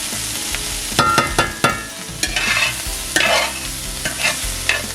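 Small-cut onions and Brussels sprouts fry in a pan, a close steady sizzle broken by sharp clacks and scrapes of stirring, loud and without speech.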